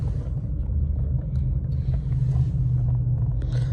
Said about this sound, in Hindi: भाई चला रहा है गाड़ी। सेकंड पे ही भाग रही है ऐसे।